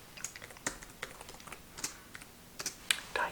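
Soft, close keyboard typing in a quiet room, irregular light clicks in short bursts with brief pauses, gentle ASMR-style tapping and no talking.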